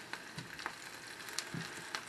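Onions and garlic fry in a pan, giving a faint, soft sizzle with scattered small pops and crackles over a couple of seconds, no voices.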